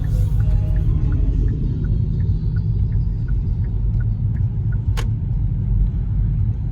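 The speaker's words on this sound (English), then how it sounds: "passing truck with loud speakers" A heavy, booming bass rumble from a passing lowrider truck's loudspeakers rolls past along with engine noise, loud and constant, with a sharp click near the end.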